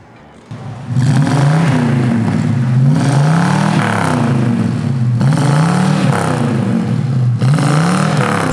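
A Ford Mustang with a 4.7 V8 rumbles into life and revs in a deep, throaty cycle of rising and falling sweeps, loud and close, sustained for several seconds without speech.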